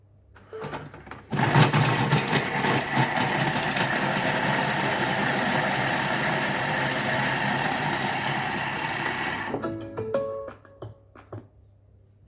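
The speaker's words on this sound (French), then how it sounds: "Et là, en 7 secondes, j'ai mes échalotes complètement hachées." A kitchen robot chops shallots at speed 5, a loud steady whirring and grinding that runs for about seven seconds before stopping, followed by a few faint clicks and beeps.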